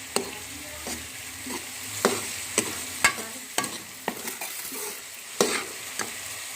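Gajrela, a carrot pudding, cooking in a pan as a spoon stirs it, giving a steady soft sizzle broken by a string of sharp scraping strokes against the pan, heard up close with no talking.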